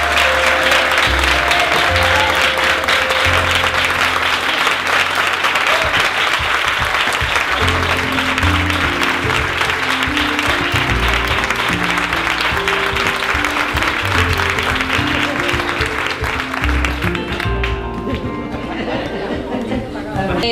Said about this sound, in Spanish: Entonces vamos a darle un aplauso